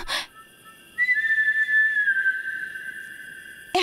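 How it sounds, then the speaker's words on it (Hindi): A whistle is blown in a tense horror-film scene: after a brief burst of noise, one long, steady shrill tone holds for nearly three seconds, clear and fairly near, with no talk. "ये सीटी वही बजा रहा है"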